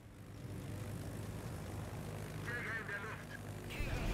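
Aircraft engines in the naval battle game World of Warships, a steady propeller drone of bomber and rocket planes with a brief rising whine near the end, heard under a player's talk.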